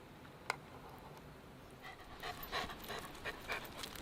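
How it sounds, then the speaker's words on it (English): A dog pants rapidly nearby, quick breathy huffs in a steady rhythm over faint outdoor background noise. "Hey neighbor's dog."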